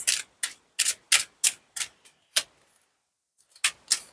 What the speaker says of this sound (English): I tried shuffling with my other hand.